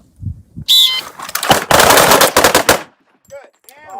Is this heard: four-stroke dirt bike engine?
no